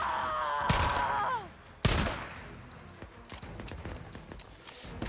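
Two sharp, loud rifle shots in a zombie survival video game, spaced about a second apart, each cracking with a short echo over a busy background of game sounds.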